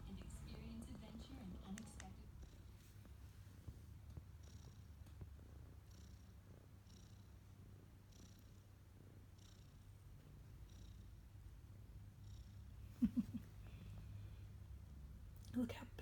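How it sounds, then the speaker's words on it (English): A six-month-old cat purrs close by, a soft, low continuous rumble throughout, with faint quiet sounds and a couple of brief louder bumps. "Are you purring?"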